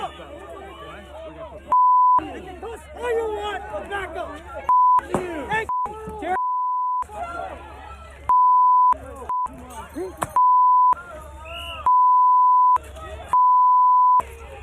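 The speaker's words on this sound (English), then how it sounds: "just the beeping's bugging the heck out of me" Censorship bleeps cut over cursing in a talk segment, a series of loud steady tones of varying length punctuating continuous speech, some long and some clipped.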